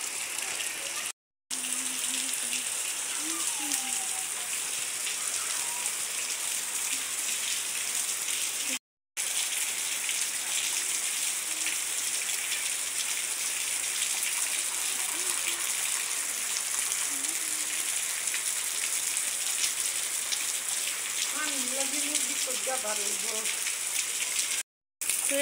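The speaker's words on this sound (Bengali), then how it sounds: "তো এই পাশে দেখেন অনেক বৃষ্টি হইতেছে।" Heavy rain falls steadily with water pouring off a roof, a thick, even wash of noise broken by a few short gaps, while faint voices briefly come through underneath.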